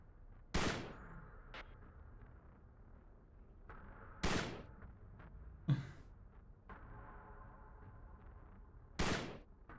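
Gunfire in the video game Peripeteia: four separate sharp, loud shots spaced a few seconds apart over a quiet background, each ending in a short decaying tail.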